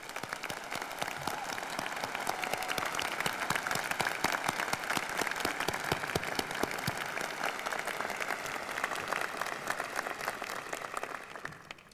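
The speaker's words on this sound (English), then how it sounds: "Please join me in applauding these exceptional teachers." An audience at a university award ceremony applauds exceptional teachers with dense, sustained clapping from many hands, loud and even for about twelve seconds before it begins to taper at the end.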